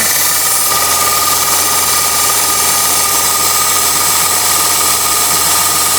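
Loud, close race car engine idling with a rough, rattling mechanical clatter, steady throughout with no speech.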